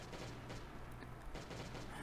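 Turret gunfire in the bunker of the video game Last Day on Earth, a steady dense fusillade of shots running through the whole stretch under a low droning hum.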